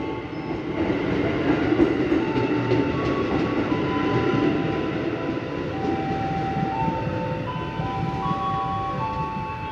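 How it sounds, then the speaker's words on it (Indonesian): A commuter train pulls out of Karet station in Jakarta on track 2, bound for Cikarang via Manggarai, producing a loud, steady rumble with whining tonal notes and rail noise that continues throughout. "Selesai turun naik penumpang, kereta segera diberangkatkan kembali."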